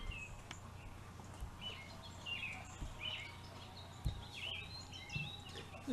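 Small birds at a backyard feeder give faint, scattered chirps and tweets over a quiet outdoor hum, with an occasional soft knock or rustle.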